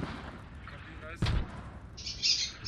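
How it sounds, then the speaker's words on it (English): Faint birds chirp in the background alongside a sharp bang and quiet ambient noise. "I'm sorry about the birds in the background."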